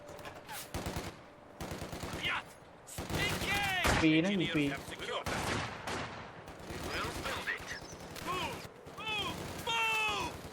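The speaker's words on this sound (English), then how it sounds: "Contact! Enemy machine gun!" Machine gun fire in the Company of Heroes 2 war game, bursts of rapid gunfire and explosions mixed with shouted soldier voices and combat effects throughout.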